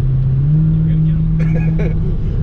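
A 700 hp Dodge Hellcat's engine drones steadily and loudly from inside the cabin, a sustained low rumble building under acceleration with faint voices in the background.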